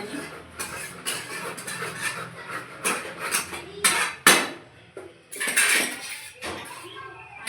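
A spatula scrapes and clatters against a pan while food is mixed, giving irregular metallic strokes and rasping scrapes at close range, with a few sharper knocks.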